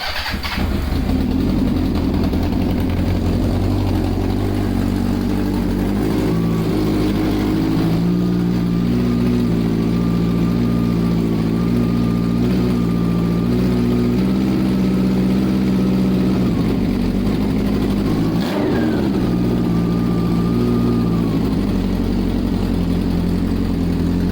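A car engine cranks and catches after carburetor work, then settles into a steady, loud idle with slight rev changes and a brief dip near the end, close by with no talk.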